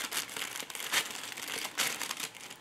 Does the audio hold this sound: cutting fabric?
yes